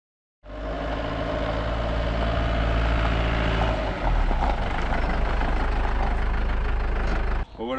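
Car engine idling after arriving at an exhaust shop, a loud close rumbling drone that starts abruptly, holds steady with a slight bump midway, then cuts off near the end, with speech mixed in.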